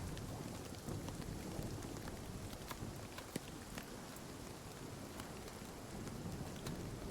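Hail falls steadily in the survival game Nightingale, making a dense, continuous pattering hiss with occasional sharper ticks. It is faint and even throughout.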